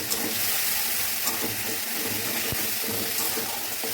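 Boiled mung dal tipped into a pan of fried spices, giving a loud wet sizzle and splashing with stirring scrapes, a continuous frying hiss.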